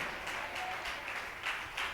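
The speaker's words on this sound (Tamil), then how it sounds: "கைதட்டுவோமா?" A congregation claps at a Tamil Christian Sunday service in church, a faint, distant-sounding patter of many hands in quick bursts.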